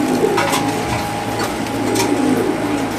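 Racer pigeons coo in a loft, a low soft burbling that repeats under a steady background hum, with no talking.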